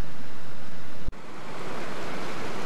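A waterfall runs down a hillside in Elan Valley, making a loud, steady rushing roar of falling water that fills the whole clip, broken only by a brief dropout, with no voices.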